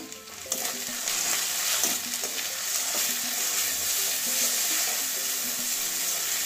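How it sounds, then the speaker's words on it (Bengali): Cumin paste, cumin powder and coriander powder fry with ginger-garlic paste in a pan, making a continuous, close sizzle with soft scraping from stirring. "মশলা ভালো করে কষিয়ে নেব।"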